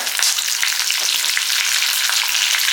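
Garlic, curry leaves and mustard seeds frying in hot oil, a loud, dense, continuous close sizzle and crackle with no voices.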